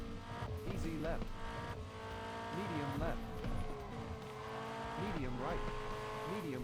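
Rally car racing in Rally Arcade Classics on Xbox Series S, a continuous revving engine rising and falling through gear changes with tire noise, steady and close.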